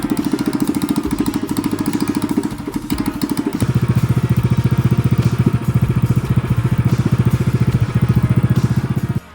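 A Manco Dingo yard kart engine fitted with a street bike muffler runs loud and close, a rapid putting idle that briefly dips then revs up and holds steady before cutting off abruptly at the end.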